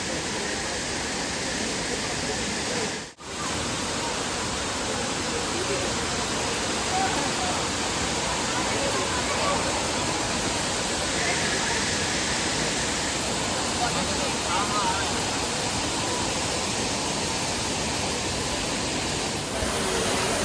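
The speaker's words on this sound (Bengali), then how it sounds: "আর এই হচ্ছে ক্রাংসুরি ওয়াটারফল, অসাধারণ সুন্দর। আর জলের প্রচণ্ড ফোর্স" Krangsuri waterfall roars with powerful falling water, a dense, loud, continuous rush with a brief dip near the start, and people talking faintly beneath it.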